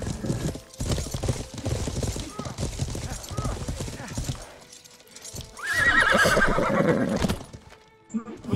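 A horse's hooves clip-clop rapidly through a castle in a multiplayer game, followed by a loud neigh, while players talk over it.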